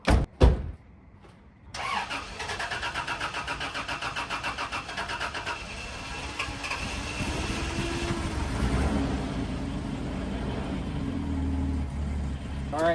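A hard-starting Toyota 80 Series Land Cruiser is cranked, stalls after a first try, then cranks steadily on a second attempt and catches into a rough, rising idle, close and fairly loud.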